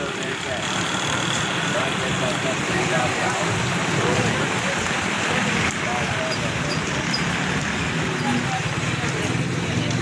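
Heavy rain in Taxila pours steadily and loudly throughout, a dense constant hiss with a faint engine-like rumble beneath.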